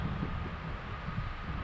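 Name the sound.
wind blowing outdoors by a river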